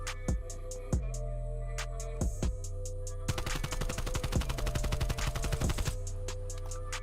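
Close, loud AK-47U submachine gun fire in Call of Duty Black Ops Cold War: a few spaced single shots, then a sustained full-auto burst of rapid cracks over steady game background hum.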